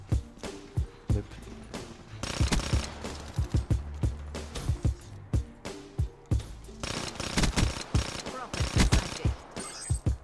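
The Pharo burst-fire SMG in Black Ops 3 cracks out in quick clustered volleys, loud and near, with short gaps between bursts and a few scattered single shots mixed in.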